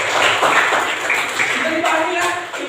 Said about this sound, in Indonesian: Beri tepuk tangan buat kalian.